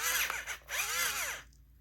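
A battery-powered Dollar Tree pencil sharpener running on three AAA batteries whirs briefly and close up, its motor pitch wavering as a pencil is ground, then cutting off after about a second and a half.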